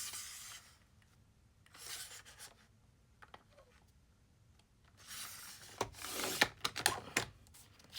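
Paper for a DIY planner cover is trimmed in quiet bursts of rasping, scraping cuts. The bursts are separated by soft handling noises and brief pauses.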